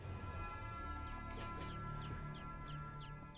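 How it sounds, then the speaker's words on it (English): A chicken in the Niffelheim survival game on Xbox One clucks in a quick repeated series of short calls over a steady humming game soundtrack, with no talking. "Chicken."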